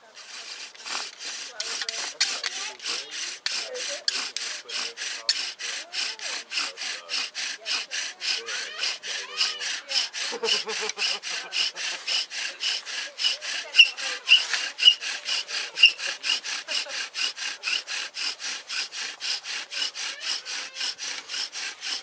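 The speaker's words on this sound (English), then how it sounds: "like you were saying, Justin, this socket is way too small for this spindle." A wooden bow drill spindle spinning in an undersized wooden socket, a fast regular rasping and squeaking stroke pattern repeating steadily throughout at close range, with faint voices in the background at times.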